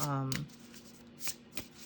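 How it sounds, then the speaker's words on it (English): Earthcraft Oracle cards are shuffled by hand in a few quick, soft riffling bursts, close and quiet, just after a short stretch of speech. "I've been struggling to just kind of get a card, so I'm just going to shuffle."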